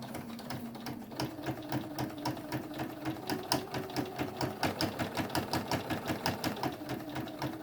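A sewing machine stitches a fabric face mask in a steady, rapid mechanical rhythm, running close and alone with a brief pause before the stitching picks up again toward the end.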